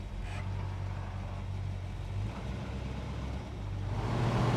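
A 1970 Dodge Charger with a 440 engine pulls away in drive, heard from inside the cabin as a steady, deep engine rumble that swells slightly near the end.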